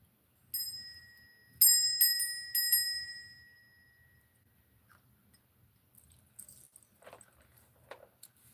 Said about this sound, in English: I'm gonna ring the bell at the beginning